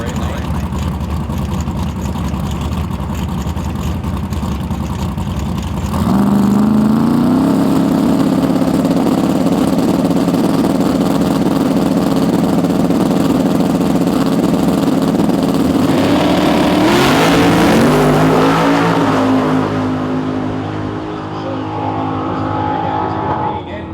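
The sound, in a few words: Chevrolet-powered Mustang drag racing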